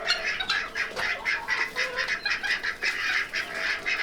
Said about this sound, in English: Now these two ducks are going, are they not?